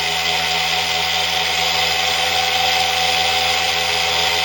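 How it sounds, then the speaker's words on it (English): A machine motor run from a power supply on a parallel single wire hum loudly and steadily throughout, a dense constant whine and whir with no clear change in pitch, no voices. "the machine accelerates very slowly"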